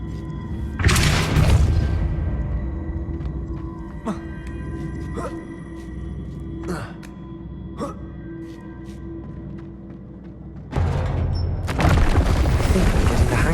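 A Depulso force spell cast in the video game Hogwarts Legacy, sounding as a loud whooshing burst near the start and another near the end. Softer clicks and thumps fall between the two bursts, and a voice speaks over part of it.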